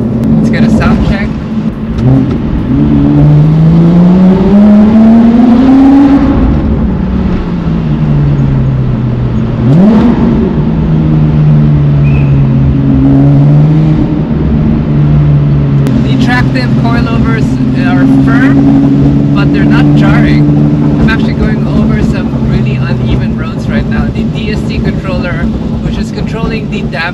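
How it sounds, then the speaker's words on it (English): A Porsche 997.2 GT3 engine revs and accelerates up close and loud, its pitch climbing and falling through several pulls over nearly half a minute, with a steady drone between the surges. "Let's get a sound check."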